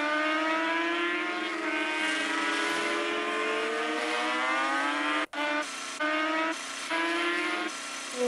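Motorbike engine in a traffic moto racing game, a loud steady high-pitched whine with rising and falling pitch, briefly cut out then resuming in choppy bursts, with no talk.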